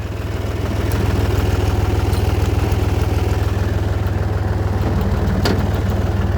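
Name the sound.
tractor engine running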